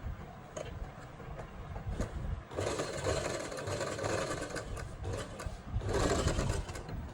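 A sewing machine runs straight stitching along a folded kurti hem in close, loud bursts, with short pauses and slowdowns between runs.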